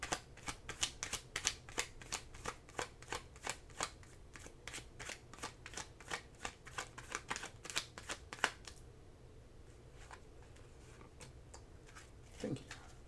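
An oracle card deck being shuffled close up, a rapid run of crisp riffling bursts for several seconds, then stopping, followed by quieter handling and a faint voice.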